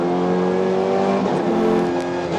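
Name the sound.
2017 BTCC Honda Civic Type R race car engine revving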